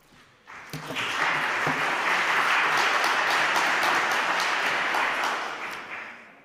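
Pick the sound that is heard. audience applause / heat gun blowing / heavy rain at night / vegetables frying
audience applause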